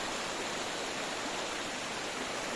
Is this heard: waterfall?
yes